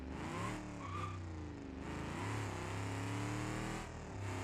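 An old Bentley car engine in BeamNG.drive revs quickly, rising and falling in pitch across several steady, loud surges with no talk.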